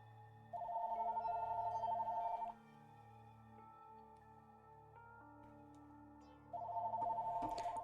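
A house telephone rings in the game Danganronpa Another Episode: Ultra Despair Girls, two clear electronic trill bursts separated by a pause over a soft sustained musical tone, fairly quiet and close, with no talking.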